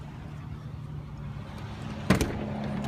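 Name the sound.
2005 Ford Mustang GT engine exhaust with Magnaflow mufflers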